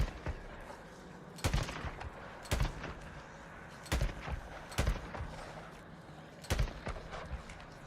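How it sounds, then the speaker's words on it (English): Video game gunfire in sharp, loud bursts, about six separate volleys spaced a second or so apart over a low, steady background hum. "We're out of missiles. Switching to guns."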